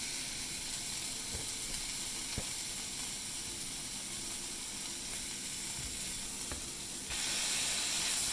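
A burger patty fries on a hot surface with a steady broadband sizzle that runs throughout, a few faint ticks and pops, and a brief rise in hiss near the end.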